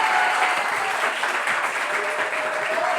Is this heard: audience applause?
yes